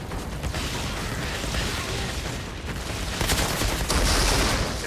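Rapid, dense sniper gunfire and combat effects from the video game Outriders, a loud continuous barrage of shots with no talking.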